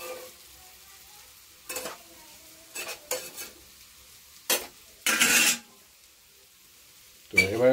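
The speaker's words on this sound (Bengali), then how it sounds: "এখানে এটা ভালো করে একবার ঘেঁটে নিতে হবে।" A spoon scrapes and stirs an egg and potato mixture in a pan in several short separate bursts, with quiet gaps between strokes and a faint frying hiss underneath.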